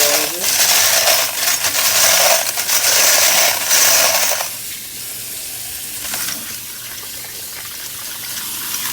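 Cool water runs and splashes over freshly cleaned brass cartridge cases from a Hornady Lock N Load sonic cleaner, a bright rushing, clinking flow for about four seconds before settling into a quieter trickle.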